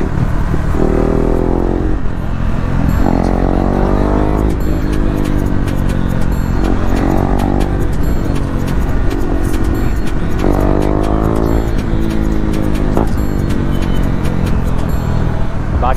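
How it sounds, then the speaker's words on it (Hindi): A KTM Duke 390 motorcycle fitted with an SC Project exhaust rides loud and close, its engine note rising and falling through repeated revving and gear changes over a constant road rumble. "आवाज़ सुनो आप लोग कैसी आवाज़ आ रही है गाड़ी की ना।"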